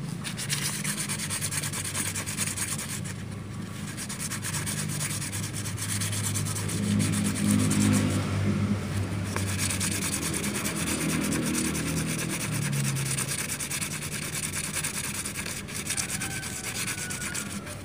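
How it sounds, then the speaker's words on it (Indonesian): Continuous close scratchy rubbing of fine sandpaper on a metal sewing machine tension disc, steady strokes with slight swells in intensity, no talking. "pergunakan amplas yang halus kayak gini terus gosok seperti ini"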